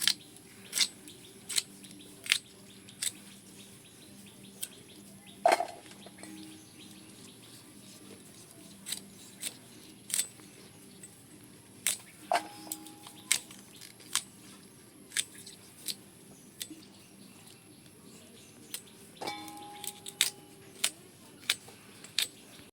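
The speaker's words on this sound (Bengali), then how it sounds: "এবারে কচু ফুলগুলো সব কেটে নিচ্ছি।" Taro flowers are snipped in a home kitchen, a long run of sharp, separate cutting clicks at an uneven pace, close and fairly crisp against a quiet background.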